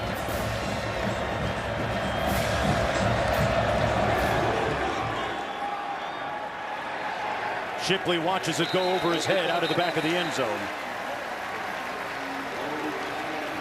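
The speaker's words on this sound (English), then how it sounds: "Raucous crowd here today." A raucous stadium crowd roars steadily at a college football game in Carter Finley Stadium, loud and broad, while a play-by-play commentator talks over it.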